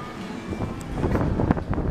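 Wind gusting across a handheld microphone outdoors beside a large decor store, a steady close rumble that swells and buffets for about two seconds with no speech over it.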